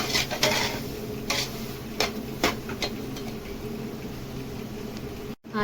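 Semolina (rava) roasting in a pan is stirred with repeated scraping strokes, several distinct swishes over a faint, steady sizzle, close up and without talking.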